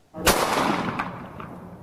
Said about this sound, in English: What sounds like a gunshot is actually some of the latest technology in law enforcement and military equipment. It's called the BolaWrap 100